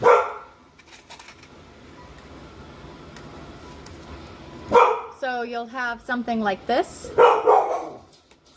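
A dog barks in a quick burst of several sharp, loud yips and bow-wows indoors near the end, after someone briefly talks in a quiet room.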